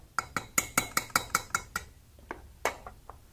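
A spoon or whisk clinks against a bowl while mixing a batter of all-purpose flour for Filipino ukoy shrimp fritters: a quick, steady run of bright taps, then slower scattered clinks, close and alone.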